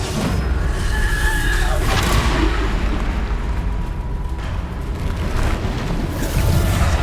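Bombarda spell explosions go off in the Hogwarts Legacy video game, a dense, rumbling series of heavy booms and bursts over constant battle noise, with a voice speaking among them.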